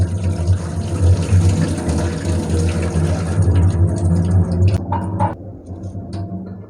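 Soaking water is drained off a soaked idli rice-and-lentil mixture, a steady close pouring and sloshing rush with a low rumble that runs on and then tapers into a few softer drips and splashes near the end.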